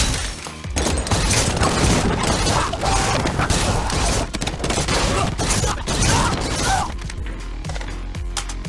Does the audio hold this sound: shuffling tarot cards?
no